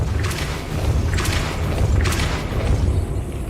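Depulso spell cast in the video game Hogwarts Legacy, several repeated bursts of a forceful magical whoosh with booming low thuds, fairly loud and close, no talking.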